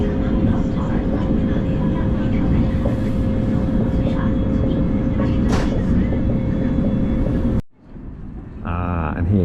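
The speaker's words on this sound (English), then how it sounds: "here comes the high-speed train and another one" A loud, steady rumble of a fast train rushing past for several seconds, then an abrupt drop to near quiet before another rising whoosh.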